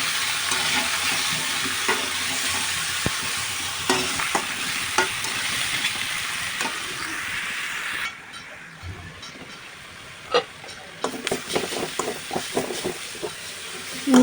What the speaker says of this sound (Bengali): এবার আরেকবার শিম আলু দিয়েই আমি মশলাটা ভালোভাবে আবার কষিয়ে নেব